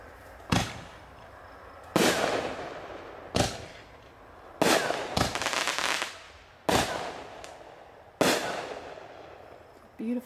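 Aerial fireworks artillery shells, first-class bullet-shaped shells, burst one after another in a series of about seven loud, sharp booms spaced a second or two apart, each trailing off in a crackling rumble.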